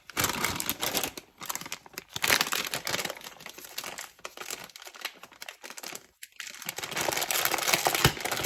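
Aluminum foil crinkles and crumples at close range while a baking dish of ground beef and cheese is covered, coming as repeated bursts of rustling with short pauses between them and no talk.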